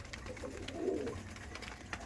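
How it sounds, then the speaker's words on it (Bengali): Kaldom pigeons coo in a soft, low, rolling burst mid-clip, with faint background bird sounds and room noise around them and no talking. "কালদম পায়রা দেখতে পাচ্ছেন আপনারা"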